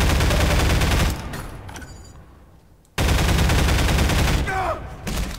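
Rapid automatic gunfire in Half-Life 2 Deathmatch, loud bursts that cut out to near silence for about two seconds before firing resumes, with a voice briefly heard.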